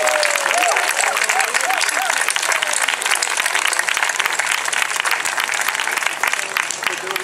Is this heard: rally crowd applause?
yes